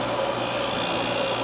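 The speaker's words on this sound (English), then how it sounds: "compressor is turning on" An RV rooftop air conditioner that has stopped working properly runs its compressor with a steady, loud, even hum and whoosh that holds unchanged throughout.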